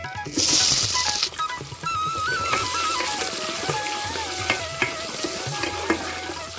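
Sliced medium onions hit hot oil with a loud burst of sizzling, then keep frying steadily while a utensil stirs and scrapes the pan, for vegetable brinji rice.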